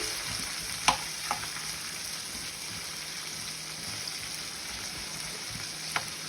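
Spices and tomato frying in a pan for Andhra-style pappu charu make a steady, close hiss of sizzling oil, with a few faint utensil taps scattered through it.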